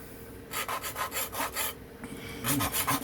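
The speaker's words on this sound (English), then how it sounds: "Just letting the abrasive cut it." An abrasive grinds a sharpening notch into the base of a Remington Barlow knife blade. It makes close, rhythmic rasping strokes in bursts with short pauses, and no one speaks.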